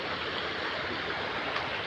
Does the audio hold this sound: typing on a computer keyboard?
no